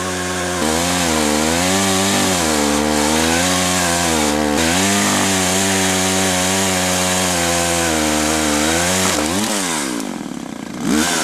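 A chainsaw roars steadily at close range, its engine pitch wavering as it bites into a tree trunk, then revving up and dropping near the end.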